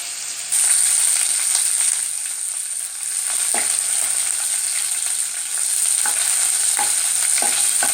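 Garlic frying in hot oil with mustard seeds for a tomato kulambu, a steady bright sizzle running throughout, close and loud, with occasional soft clicks of stirring and no voice.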